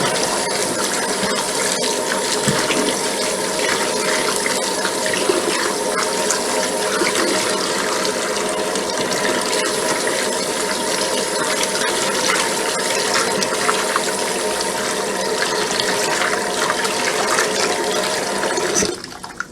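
Running water from a tap while hassar fish are washed for a Guyanese curry, a steady, continuous splashing wash that stays loud and even for nearly twenty seconds before cutting off at the end.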